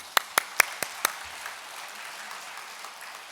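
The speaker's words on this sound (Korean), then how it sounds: "박수." A church congregation at a Sunday morning service at Hanwoori Church gives about five loud, sharp claps in quick rhythm, then the hall settles into quiet room tone.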